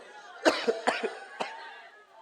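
A man coughs in a rough, hacking fit: about four sharp coughs close together, then one more after a short pause, each heard clearly and up close with nothing else sounding.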